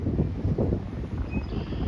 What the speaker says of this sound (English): it is windy today. It is blustery.